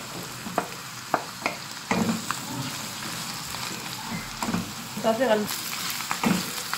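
Broccoli sautés in a pot for soup, giving a close, continuous sizzle, and a spoon knocks and stirs against the pot at irregular intervals; a voice speaks briefly over it.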